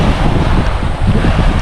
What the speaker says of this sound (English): It's so windy, eh?